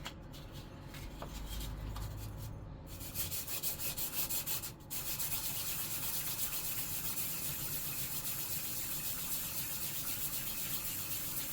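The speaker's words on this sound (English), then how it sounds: "we'll just going to rub it on some of this 1000 grit just to clean it and see how that works out" A Yamaha Virago 535 carburetor part is rubbed back and forth on 1000 grit sandpaper, making a steady, close scratchy sanding hiss that runs continuously with a couple of short pauses early on.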